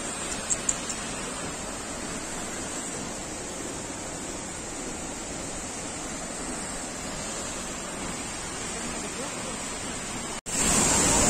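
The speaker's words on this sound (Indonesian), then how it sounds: "ternyata ada air terjun yang seindah ini ya" Curug Penganten waterfall roars as a constant broadband rush of falling water, steady and fairly close throughout, with a brief knock near the start and a sudden level jump near the end.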